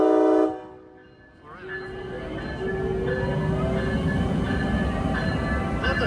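A Metro-North train at the New Haven yard sounds its horn loudly, then rumbles past with a steady, building roar of wheels and cars; a voice speaks briefly over the passing train.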